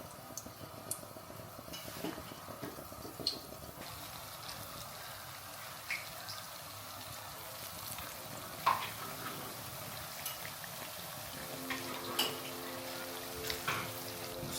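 Nigerian puff puff dough balls fry in hot oil, a quiet steady sizzle with scattered small pops and clicks, heard close at low volume with no talking.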